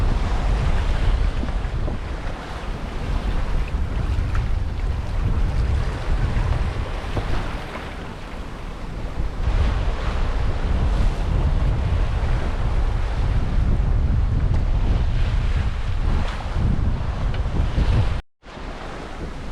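Atlantic ocean swells of two to two and a half meters rush past a sailboat crossing west to east, with loud continuous wind buffeting the microphone and a steady wash of waves throughout.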